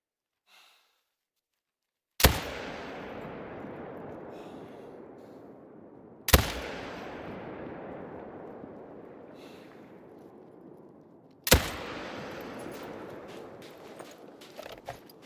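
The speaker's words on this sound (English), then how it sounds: "Three shots landed." Three loud, sharp rifle shots from theHunter: Call of the Wild ring out at even intervals, each followed by a long rolling echo that trails off into the outdoor quiet before the next.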